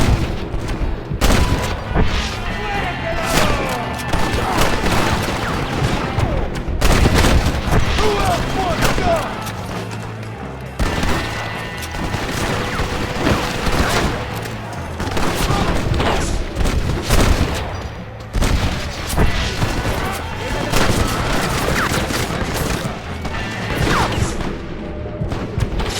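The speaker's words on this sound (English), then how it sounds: "They have a machine gun!" Gunfight in the Red Dead Redemption western game with a machine gun firing, dense rapid bursts and booming impacts running nonstop at high loudness, with shouted voices mixed into the chaos.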